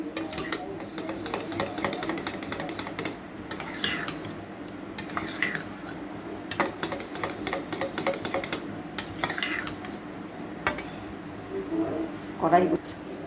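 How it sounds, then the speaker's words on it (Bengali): A spoon stirs salt into whisked sour yogurt in a bowl, giving repeated light scraping and clinking strokes close by under ongoing talk. "সামান্য লবণটা দিয়ে মিশিয়ে নিব"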